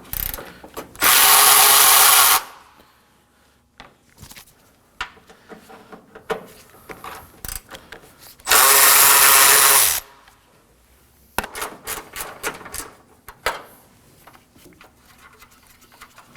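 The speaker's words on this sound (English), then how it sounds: "we're gonna be removing these three 10mm bolts using a 10mm socket" Removing three 10 mm bolts with a 10 mm socket ratchet on a 2014-2020 Acura MDX during radiator replacement: two long, loud mechanical bursts with rapid clicking and scattered tool clatter between them.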